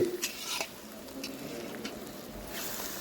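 Food cooks in a pot at an outdoor village picnic near the India–Bangladesh border, with a soft sizzle under scraping stirs and a few light metallic clinks of utensils nearby.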